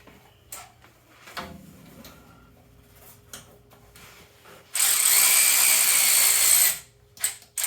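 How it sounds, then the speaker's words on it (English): A cordless ratchet removes bolts on a UTV primary clutch, a couple of seconds of loud close whirring with a quiet tool clatter and clicks before and after. "My battery just went dead on my ratchet."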